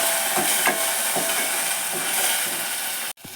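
Garlic and curry leaves being stirred in a pan for tomato sambar, with a steady hiss of frying and a few soft scrapes of the spoon at an even pace, cut off sharply at the end.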